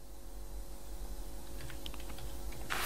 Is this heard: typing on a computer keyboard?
yes